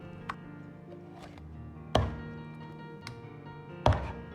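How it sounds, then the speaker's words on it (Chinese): A cleaver chops a fresh, cleaned duck into even pieces for home-style sauce-braised duck. A few heavy, sharp thunks fall on the board a couple of seconds apart, with a softer tap between them, in a quiet kitchen. "再剁成大小均匀的块儿"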